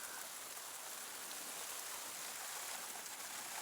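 Steady outdoor rain pours down in a dense, even hiss of drops hitting surfaces, continuous and fairly close, with no voices heard.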